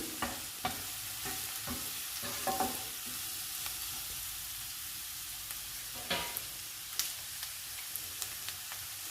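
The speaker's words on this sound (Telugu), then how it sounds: "మసాలాని బాగా వేయించుకోవాలి, పచ్చి వాసన పోయేటట్లు" Onion curry masala fries in a pan with a soft, steady sizzle, broken by repeated scraping stirs and light clinks of a spatula, close and quiet with no talking.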